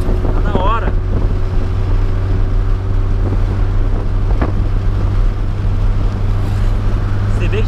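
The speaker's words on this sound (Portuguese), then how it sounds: "Mas a emoção de acelerar o golzinho." Volkswagen Gol hatchback accelerating hard on a highway, a loud, constant engine drone with heavy wind and road roar filling the cabin throughout, and a brief voice over the noise.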